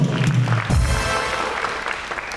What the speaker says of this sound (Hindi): वेल डन तालियां भाई